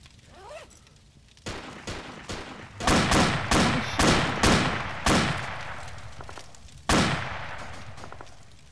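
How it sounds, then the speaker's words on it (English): Gunshots ring out in a DayZ base raid as a string of sharp, loud cracks, at first spaced apart and then in a quick cluster, each one trailing off with a reverberant tail. "Guys, I think there's a warning shot."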